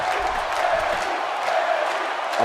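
Video-game wrestling arena crowd in WWE 2K18 cheering warmly for Bayley, a steady dense roar of many voices with scattered whoops, filling the whole stretch at even loudness.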